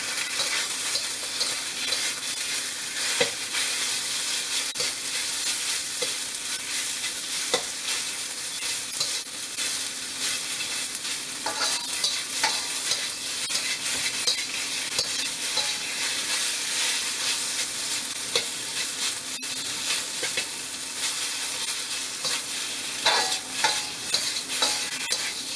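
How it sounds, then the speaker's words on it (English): Beef stir-fries in a hot wok with oil, a loud, continuous sizzle and hiss punctuated by scraping and tossing clatter throughout, with no voices. "You can see when the wok's hot, the beef doesn't stick to it."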